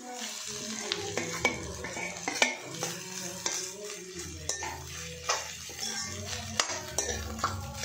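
Cooked rice is added to Maggi noodles frying in a pan and stirred with a utensil, giving a steady sizzle with repeated scraping and clinking of metal against the pan, close and fairly quiet, with no talk.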